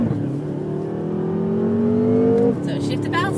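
BMW M5 accelerating hard through a corner on a race track at around 70 mph, the engine note climbing steadily and loudly before an abrupt drop at a shift, with an instructor talking over it.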